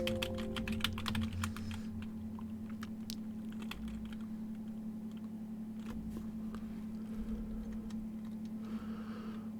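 Fingers type a command on a computer keyboard in a quiet room, a close, fairly soft run of rapid key clicks clustered at the start, then sparser taps over a low steady hum.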